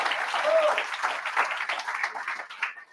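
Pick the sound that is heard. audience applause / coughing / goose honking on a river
audience applause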